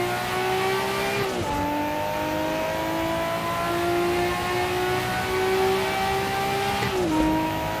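A Nissan Skyline and a Mitsubishi Lancer race at Tsukuba circuit, their engines droning loudly at high revs, with a couple of brief dips as gears shift before the pitch climbs again.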